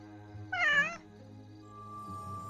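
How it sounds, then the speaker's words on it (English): A single drawn-out, wavering cat meow from the attack kitten in the game Warcraft 3, lasting about half a second and standing alone over a low steady game hum. "Strike, my vicious attack kitten."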